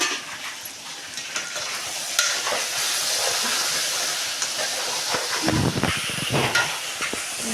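Onions, tomatoes and green chilies sizzle and simmer in a hot pan, giving a continuous close hiss of frying with occasional stirring scrapes and a louder burst of crackling near the end.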